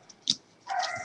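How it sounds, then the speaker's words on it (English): A puppy lets out a couple of short, quiet yips and a thin whimpering bark, faint and close, with a brief pause between the sounds. "Puppy woke up again."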